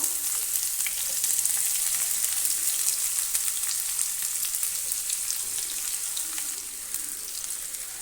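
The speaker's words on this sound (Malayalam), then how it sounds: "ഇനി ഇതിലേക്ക് നമുക്ക് പാവയ്ക്ക ഒന്ന് ചേർത്ത് കൊടുത്തിട്ട് ഒന്ന് ഫ്രൈ ചെയ്തെടുക്കാം." Bitter gourd frying in sesame oil for a Kerala-style pickle, a steady dense sizzle that keeps going for the whole stretch with no talk.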